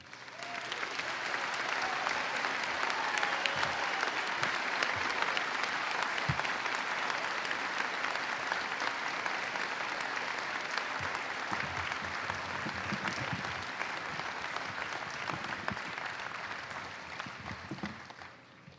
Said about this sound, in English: let us applaud those that have just crossed the stage